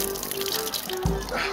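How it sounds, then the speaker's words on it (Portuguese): Water pouring steadily from an outdoor tap, a close, continuous splashing gush that fills the whole short stretch, with no talking over it. "Achei uma torneira, Johnny Tubers."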